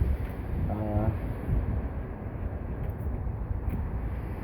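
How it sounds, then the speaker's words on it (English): Strong gusty wind in an open parking area in Las Vegas, Nevada, roars steadily and loudly across the microphone for the whole stretch, with a brief spoken hesitation near the start. "it's a windy day today"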